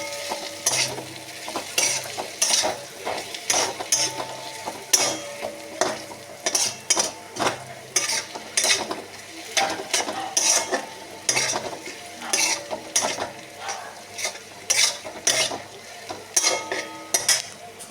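Ghugni masala with Kashmiri red chilli powder and chana masala being sautéed and stirred in a pan with dried peas to come, a close, rhythmic scraping of a spoon against metal over a soft sizzle, with no talking.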